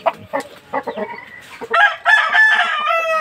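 An Aseel rooster crows loudly and close by in a long, wavering cock-a-doodle-doo, after a run of clucks and short calls from the same fowl.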